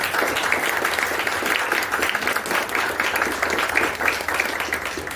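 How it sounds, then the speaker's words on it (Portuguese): An audience welcomes a guest to a book interview with a round of applause, a full, continuous clatter of many hands at close range, steady and fairly loud for the whole stretch. "Uma salva de palmas, pessoal."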